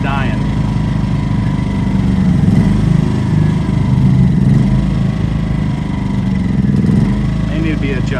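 A portable generator's cold engine runs loud and close on full choke after sitting unused for 19 months, a steady rough droning idle with slight wavering, while people talk over it.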